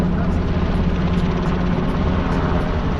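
A military combat helicopter flies at an air show, its rotor thudding in a loud, steady, rhythmic chop with a rushing engine roar, close and continuous.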